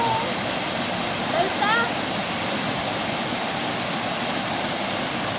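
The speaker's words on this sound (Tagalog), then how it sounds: "ngayon po nandito kami sa Bulinaw Falls" Bolinao Falls in Pangasinan roars as a steady, loud wash of falling water, close and constant, with a brief whistle near the start.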